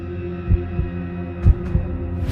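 A pounding heartbeat sound effect thumps in low, heavy paired beats over a droning hum, loud and alone, with a faint whoosh near the end.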